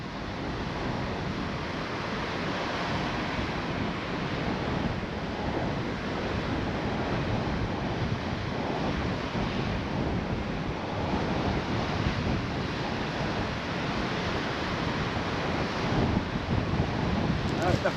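Sea waves wash and break steadily along a shoreline during a beach fishing competition, a constant loud surf roar with wind buffeting the microphone throughout.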